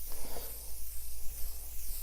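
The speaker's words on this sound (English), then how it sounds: "We're going to take this and spray it one more time" A soft, steady hiss of makeup setting spray lasts a couple of seconds, quiet and close.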